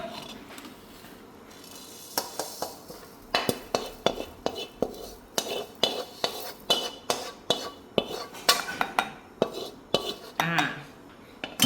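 Coriander and cumin seeds go into a mortar, with a string of sharp close clinks and knocks of utensils against hard surfaces in a fairly regular rhythm over light background noise, and no talking.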